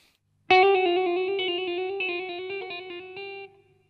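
A quick electric guitar lick of rapid, clean-toned notes in a steady run, played up close before ending with a held note that fades.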